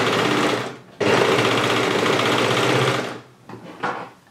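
A regular sewing machine runs a zigzag stitch to attach elastic onto a bikini strap, giving a close, steady mechanical whirr of rapid needle strokes for about two seconds, then slowing into a few short bursts.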